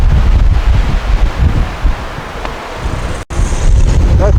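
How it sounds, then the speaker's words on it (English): Strong gusty wind roars loudly across the microphone on a windy day, with a continuous low rumble and buffeting, a brief dropout near the end, and no speech. "Wind. This is a big wind."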